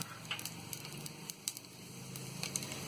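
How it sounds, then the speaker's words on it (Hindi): Whole garam masala (black cardamom, black pepper, cloves and star anise) fries in hot oil for matar pulao, giving a faint, steady sizzle dotted with small crackling pops. "पूरे मसाले को हम हल्का सा फ्राई करेंगे।"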